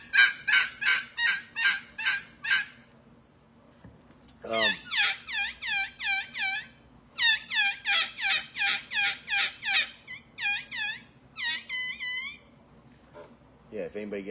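A turkey call device pressed hard to imitate turkey kiki calls, producing loud close bursts of rapid, high, squeaky yelps in quick series separated by short pauses, with a voice heard briefly near the end.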